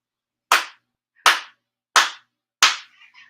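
Four sharp, evenly spaced ritual hand claps ring out during a Shinto prayer service, each one loud and crisp against silence, with a faint voice at the very end.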